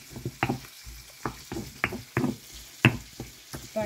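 A breaded chicken milanesa fries in a pan with a soft sizzle, broken by a series of irregular knocks and scrapes as the pieces are moved and turned, close and at moderate volume.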